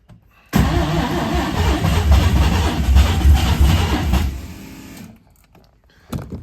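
A Mazda 323 fitted with a 13B turbo rotary engine cranks and fires, then runs with a loud, rough, busy idle for several seconds before the sound drops off abruptly.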